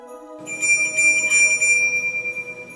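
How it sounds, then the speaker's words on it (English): A bell rings out clearly, its bright sustained tones shimmering and pulsing gently as the ring lingers and slowly fades. "the bell still rings for me, as it does for all those who truly believe"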